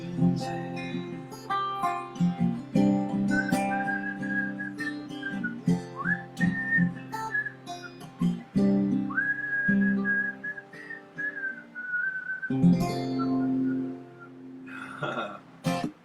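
A person whistles a song melody with sustained, sliding tones, clear and fairly close over a steady instrumental accompaniment, continuing for most of the passage with brief pauses.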